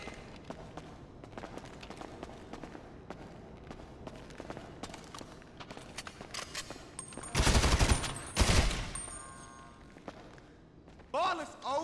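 Bursts of gunfire in GTA V story mode, with a dense volley of loud shots around the middle rising over ongoing game noise and shouting voices, then a further sharp burst near the end.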